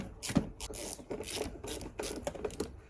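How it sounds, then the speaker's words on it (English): On a Honda Civic MK8, the bolts of the air filter box are tightened with short rasping ratchet strokes in uneven bursts, close up and fairly quiet, with no talking. "Just gonna tighten the air filter box bolts."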